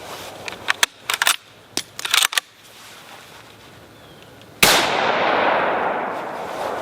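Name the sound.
Finnish M91 Mosin Nagant rifle gunshot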